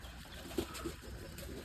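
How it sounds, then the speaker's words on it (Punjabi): A domestic pigeon kept for pigeon-flying contests gives two faint, short coos close by, against a low steady background hum. "ਫੜ ਲਈਏ ਰੱਤਾ ਕਬੂਤਰ"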